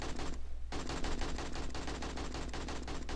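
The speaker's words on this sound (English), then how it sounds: "Sounds like you're shooting your own building." Rapid automatic gunfire in the video game 7 Days to Die cracks out in a fast, even burst of close, loud shots, broken by one short pause before the stream resumes.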